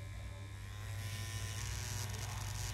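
A Linda Paradise tattoo removal machine running at power level 8 gives a steady, loud electric buzz with a strong low hum, holding constant throughout with no talk over it.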